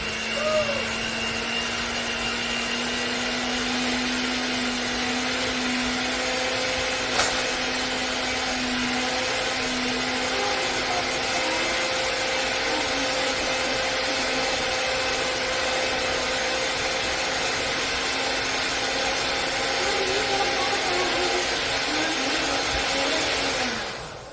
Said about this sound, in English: mix the sugar and the salt and butter together on medium until it gets a little light and fluffy